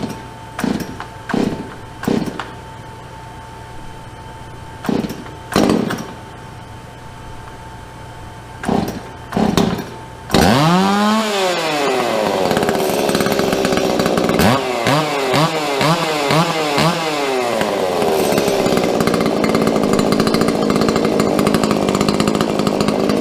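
A chainsaw fitted with a homemade muffler modification sputters and pops at a rough idle, then revs hard into a loud, sustained, raspy snarl with rising and falling throttle bursts, very close.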